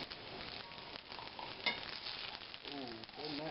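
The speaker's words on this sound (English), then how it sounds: "we're going to take one onion and we're going to set it down like so in the oil" An onion browns in shallow oil in a pan for a braised chuck roast, giving a constant close sizzle with a faint crackle and a short scrape partway through, no voices.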